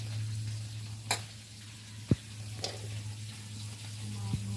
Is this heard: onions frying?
yes